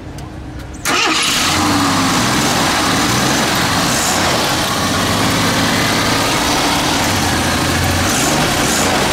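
A 1977 AMC Hornet AMX straight six cranks and fires after a brief pause, then settles into a loud, steady, rumbling idle close up, with people talking faintly over it.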